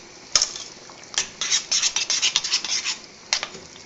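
A utensil scrapes and stirs through a thick tuna mornay mixture in a bowl, quick rubbing strokes in bursts with short pauses, close and fairly loud, no voices.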